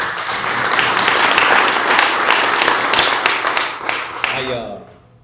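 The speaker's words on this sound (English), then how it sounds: "give him a round of applause" Audience applause fills a Hall of Fame gathering, a dense wash of clapping from a crowd that holds steady for about four seconds before thinning and fading out.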